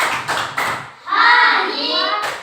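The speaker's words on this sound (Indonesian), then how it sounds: "tepuk hebat untuk Hani." Children in a classroom clapping a short rhythmic pattern, a few sharp claps mixed with young voices chanting along.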